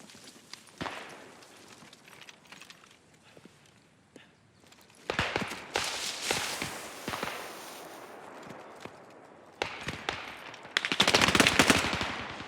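Machine gun fire in the World War II shooter Post Scriptum, rapid rattling bursts that grow denser and louder toward the end, with sporadic distant shots and impacts between them and no speech.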